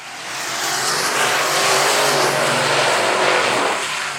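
Race cars roar around the oval at South Texas Speedway, a loud, sustained engine wash that swells and holds steady as the pack passes close by, with no voices over it.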